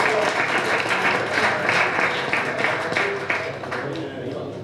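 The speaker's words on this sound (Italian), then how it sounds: "E un applauso ancora per Franco!" Sustained audience applause fills a gala hall at a cycling club's annual awards evening, steady dense clapping from a large crowd for the full stretch with faint voices underneath.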